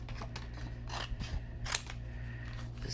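Scissors snip through paper in a few quick cuts over a steady low hum, close to the microphone, during handmade card making.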